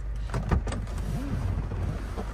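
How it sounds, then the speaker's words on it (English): The power rear sunshade of a 2008 Cadillac DTS rises with a short electric motor whine and faint mechanical clicks inside the cabin, brief and fairly close. "There's a button up by the driver's side. So this sunshade comes up."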